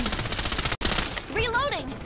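Gunfire in the battle royale video game Farlight 84, a dense continuous fusillade of rapid shots with a brief cutout, followed by a short voiced game line.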